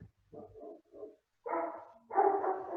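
Dogs barking close by in a home, a few short yips followed by two louder, fuller barks in quick succession.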